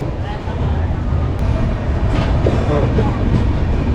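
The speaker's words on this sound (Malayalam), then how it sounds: "ട്രെയിൻ പതുക്കെ പാലക്കാട് സ്റ്റേഷൻ വിട്ടു" A train rumbles steadily with a faint rhythmic clatter of wheels, heard from inside a carriage as it moves slowly out of Palakkad station.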